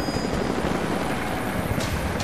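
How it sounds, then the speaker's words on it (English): A helicopter's rotor chops steadily in the video game Rise of the Tomb Raider, a dense continuous thudding drone, fairly close and constant throughout. "helicopters are headed your way"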